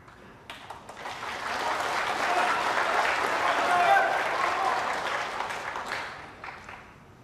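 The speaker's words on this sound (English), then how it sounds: "some of the O'Sullivan fans applauding him having the white put back" Snooker crowd applauds in a broad, even wash of clapping that builds gradually, peaks in the middle and tapers away, moderately distant and without voices over it.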